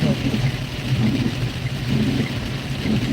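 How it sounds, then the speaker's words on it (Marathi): Heavy monsoon rain pouring steadily in open country a few kilometres outside Sambhajinagar, a dense continuous wash with low rumbling undertones, with the sun out during the downpour. "आणि पाऊस देखील जोरदार पडत"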